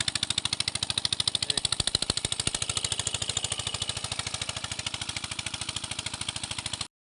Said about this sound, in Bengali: এখানেও একটা মেশিন চলছে সেই মেশিনটা কিন্তু চলছে গ্যাসে